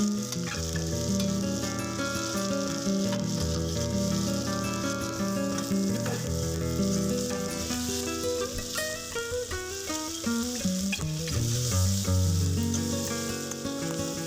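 Potato and pointed gourd sizzle as they are stir-fried in spice paste for a Bengali potol chingri curry, a steady close crackle running throughout with continuous musical accompaniment over it.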